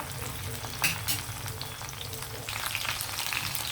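Dried prawns frying in hot oil for an Andhra-style curry, a steady close sizzle with a few sharper crackling bursts and spoon stirs near the start and a brighter, busier hiss toward the end.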